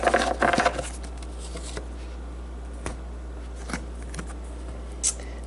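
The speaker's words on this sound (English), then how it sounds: "I'm just going to do a little bit more shuffling here until I feel like it is time to stop." A deck of tarot cards being shuffled by hand gives a burst of papery riffling at first, then scattered soft taps and slides against a quiet background hum.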